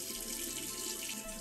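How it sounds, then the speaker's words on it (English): Hot water runs steadily from a tap onto a beautyblender sponge being cleaned with cleanser, a continuous close, even hiss of flowing water with no speech. "I'm gonna try to put it under hot water for a bit."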